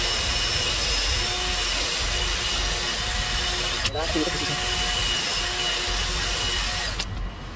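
A drill bores into a broken exhaust manifold bolt on a Volvo B7 double-decker bus engine, a steady close whine running throughout under a voice, with a couple of sharp knocks.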